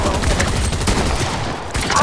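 Pump shotgun fire in a video game comes as a dense, continuous burst of gunfire and explosive game noise, loud and sustained throughout, with a voice speaking faintly underneath.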